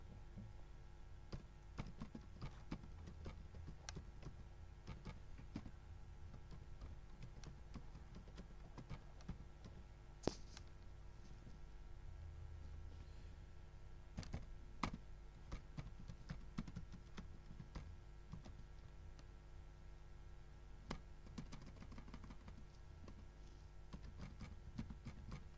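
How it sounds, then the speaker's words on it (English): Computer keyboard typing at a desk, a faint scattering of light key clicks in irregular bursts over a low steady background hum, with no voices. "Let me type it."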